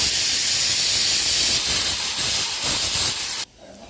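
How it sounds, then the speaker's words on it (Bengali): A pressure cooker releases steam in a loud, close, sustained hiss that cuts off abruptly near the end, leaving quieter room sound. "কথা বলতে বলতে তো প্রেশারের শীষটা উঠে গেছে জন্য আমি একটু ভয় পাই গেছি হঠাৎ করে উঠে গেছে"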